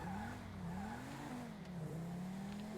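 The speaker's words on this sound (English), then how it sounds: "I'm just gonna drive around and get lost for a minute, you know, for funsies." A car being driven around in a video game, with a steady engine drone whose pitch rises and falls gently as it goes.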